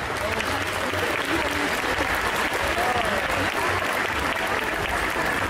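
Loud, sustained applause from a crowd at an indoor costume contest for a performer dressed as Belle in a village dress, continuous clapping with faint crowd murmur and a voice underneath.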